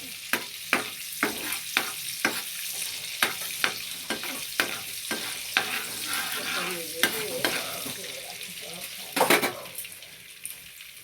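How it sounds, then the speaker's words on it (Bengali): Garlic cheese chicken kebabs fry in butter in a pan, giving a steady sizzling hiss broken by a run of sharp utensil clicks and scrapes, with a louder burst near the end. "কাবাবগুলো আমি একে একে ভেজে তুলে নেব"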